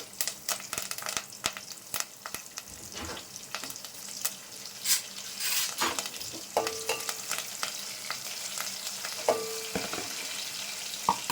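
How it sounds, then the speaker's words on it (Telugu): Curry leaves and green chillies spluttering in hot oil for a grated carrot fry curry, giving a steady crackling sizzle with sharp pops and occasional stirring scrapes, close up and with no talk. "ఆయిల్ అయితే వేడెక్కింది వేడెక్కగానే కరివేపాకు చిట్టపట్లాడుతుంది"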